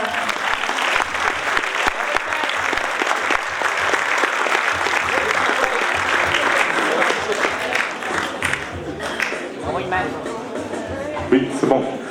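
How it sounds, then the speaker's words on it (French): A festival closing-night audience applauds a best-poster award winner with sustained clapping and crowd murmur that tapers off near the end, with some voices mixed in. "Oui, on applaudit Iman."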